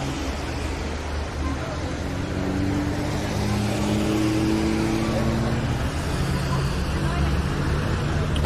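Old rally cars drive past along the Elbe riverside near the Brühlsche Terrasse in Dresden, engines rumbling steadily at moderate distance under a busy crowd murmur and street noise.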